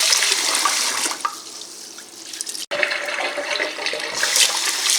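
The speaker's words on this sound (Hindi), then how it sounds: "राइस को वॉश करके भिगो लेते हैं।" Rice grains being washed by hand in water, with continuous splashing and swishing of liquid, a brief break near the middle, then more sloshing close to the microphone.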